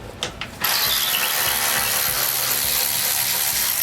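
A ratchet clicks in a few quick bursts, then runs in a steady loud mechanical whir while taking an engine off a float bowl test rig.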